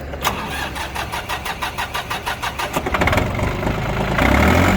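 A three-cylinder Mitsubishi engine on a used Japanese mini tractor with a rotary tiller is cranked over, a rapid rhythmic churning of about a dozen strokes, then catches and settles into a loud, steady idle.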